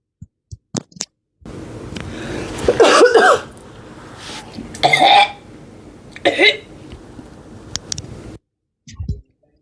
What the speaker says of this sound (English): I have these dry coughs sometimes,